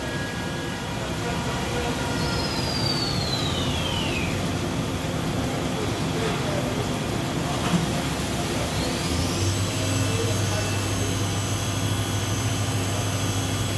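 An Okuma MA-50HB machining center spindle spins at 5,000 RPM, giving a steady mechanical whine and hum with rising and falling pitch sweeps, fairly loud and continuous throughout.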